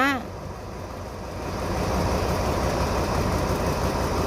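A 2,400-horsepower diesel locomotive engine idles steadily with a low, broad rumble that swells slightly after the first second and then holds constant.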